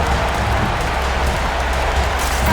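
Steady crowd applause in the video game NBA 2K22 fills the whole stretch, a dense wash of clapping and cheering at even loudness with no break.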